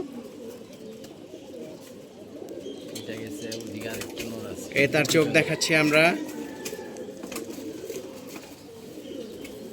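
A racing pigeon of the jamgola type coos in a loud burst of a few seconds midway, near and clear, while someone talks before and after the calls.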